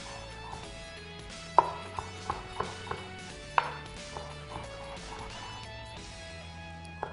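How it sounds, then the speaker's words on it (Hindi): A knife chops tomatoes on a board in a series of crisp, irregular taps, about a dozen close strikes with two louder thuds, over a quiet kitchen hum and no speech. "हम टमाटर और खीरा, हरा धनिया, इन सब चीज़ों को भी हम चॉप करेंगे"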